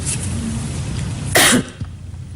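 One sharp, loud cough bursts out about midway during a conference talk, then a faint throat sound follows over a low background hum.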